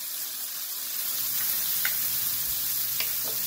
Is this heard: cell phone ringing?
no